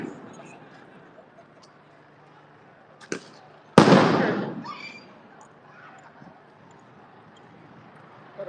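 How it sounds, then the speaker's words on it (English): Gunfire from police at a street protest: a single sharp crack, then a loud, close blast that booms and fades over about a second, both standing out against a quiet outdoor background. "They just shot someone in the leg."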